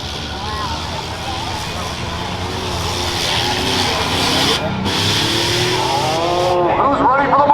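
Stock-class rough trucks race on a dirt track at the Hartford Fair. Engines roar steadily at close range while tires scrub and skid, and an announcer talks over the racing throughout.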